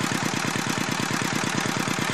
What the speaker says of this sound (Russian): При одних и тех же холостых, при одном и том же положении рычажка газа, вращение двигателя выше.